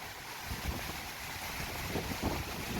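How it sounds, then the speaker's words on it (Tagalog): Strong wind roars and buffets the microphone in a steady, loud rush of noise, with no speech. "Sobrang lakas ng hangin."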